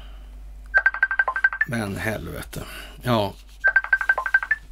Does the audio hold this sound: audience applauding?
no